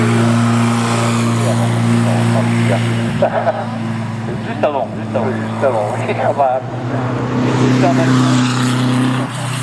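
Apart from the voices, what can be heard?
Renault 5 Turbo 2 rally car at hill climb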